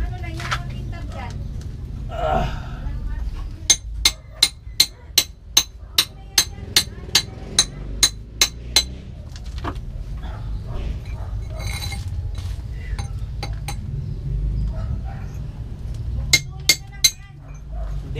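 A shiny metal object used as a makeshift hammer taps at a leak to seal it, delivering two bursts of sharp, evenly spaced clinks among people talking.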